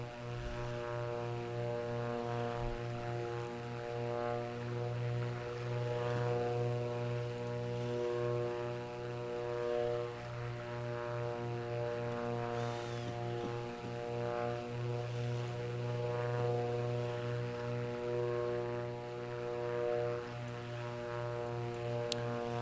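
Steady drone of a Mustang's propeller engine in a flight simulator, a constant loud hum with strong low harmonics and no gaps from start to finish.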